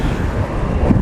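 Strong gusts buffet the microphone at a windy airport, a continuous loud low rumble of wind noise with no speech.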